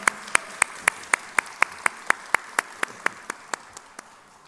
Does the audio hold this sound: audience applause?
yes